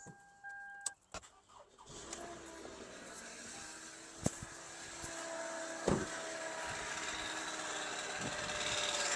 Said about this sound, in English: it is making noise, but the car has started